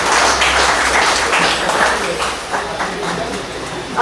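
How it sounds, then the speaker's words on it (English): A live audience at a Divali program claps in a lusty round of applause, a dense, steady wash of many hands that stays fairly loud and even throughout, with no talk over it. "we have a very lusty round of applause"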